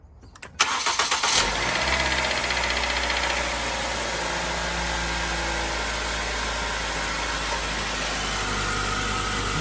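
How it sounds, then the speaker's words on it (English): A 2008 Ford Focus starts up after a spark plug change: a brief cranking burst gives way to a loud, steady idle that runs on without voices. "So we're gonna get ready and start it up and see if it starts up better."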